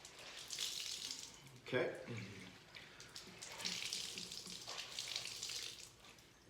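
Wet fabric is wrung and rinsed in a vinegar solution, with splashing and trickling water in uneven bursts close by, and a brief word spoken midway.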